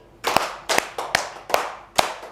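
A classroom group claps hands in a microteaching lesson on basic teaching skills: five sharp, broadband group claps spaced about half a second apart, each with a short ringing tail, fairly close and clear without talk.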